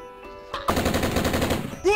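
Gunfire in a game played by students bursts out as a rapid rattling volley of shots, loud and close, following a short lead-in, with a brief tonal sound at the end.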